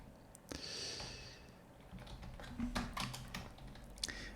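A computer keyboard key held down while a program runs, giving soft scattered clicks and light tapping at close range with no voices.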